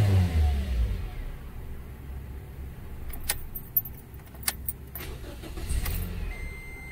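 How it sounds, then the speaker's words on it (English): A car engine cranks on the starter and fires up in a burst, then settles into running with a few sharp clicks and metallic clatters over the idle. "the starter engagement sounds fine"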